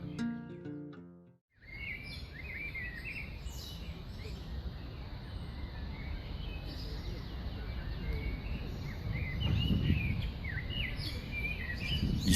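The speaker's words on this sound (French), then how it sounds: "Ici, dans la charmante ruelle Ville-la-Marceau, se trouve une colonie de moineaux." A colony of house sparrows on a charming Paris side street chirps busily, with many overlapping short tweets close by over a steady low urban rumble.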